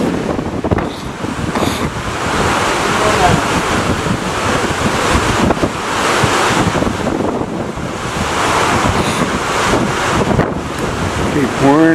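Ocean waves in roughly ten-foot seas off Cape Horn, heard from a boat as a loud, continuous churning wash with heavy wind buffeting the microphone throughout.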